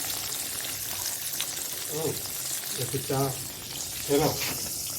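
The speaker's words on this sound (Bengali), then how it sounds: "এইদিকে বেগুন ভাজাটা হোক" Eggplant frying over a wood fire, a steady broadband sizzle running throughout with a few short voiced sounds rising above it.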